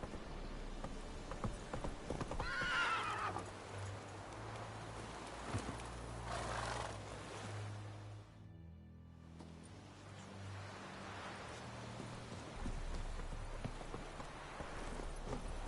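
Roach, the horse in The Witcher 3, galloping: a steady, rhythmic drum of hooves close by, with a faint whinny early on and a brief drop in the sound partway through.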